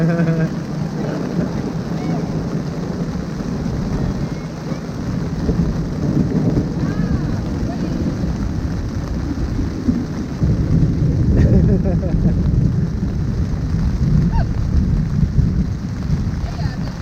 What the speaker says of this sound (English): The thunder's rolling off the mountain.